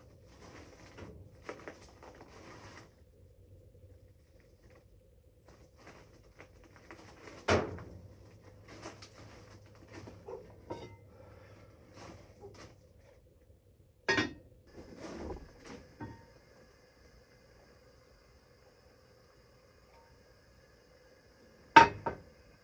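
A heavy lid goes back onto a cast iron pot of pinto beans cooking over an open fire, giving a few sharp metallic clanks spread over quiet background crackle.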